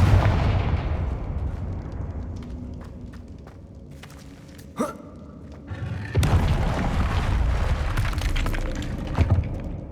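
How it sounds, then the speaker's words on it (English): A Confringo fire-blast spell explodes in Hogwarts Legacy, with a sharp crack and then a second booming blast over a rumbling low bed of game ambience and scattered footsteps. "Confringo!"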